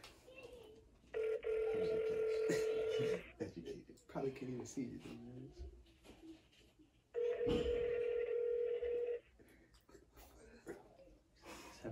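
A phone call rings out unanswered, with two long, loud steady ringback tones separated by a gap, while people talk and breathe over and between them.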